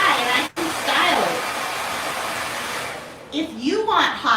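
A handheld blow dryer runs steadily at close range, its broad airy roar filling the clip, with a person talking over it toward the end.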